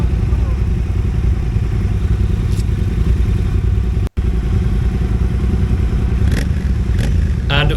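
A 2016 Triumph Thruxton R and other motorcycles on a group ride hold a loud, steady engine drone close by, with a brief dropout midway and a few sharp higher blips near the end.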